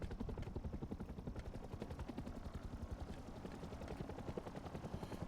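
Helicopter in a video game, a steady rapid rotor chop with dense rhythmic thumping that stays loud and close throughout, heard alone with no talk.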